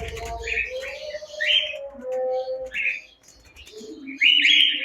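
Lovebirds and cockatiels in a large flying cage at a bird farm give bright, scattered chirps and tweets close by, mixed with a person talking.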